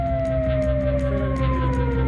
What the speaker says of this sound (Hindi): इजराइल में सायरन का अलर्ट बजने लगा।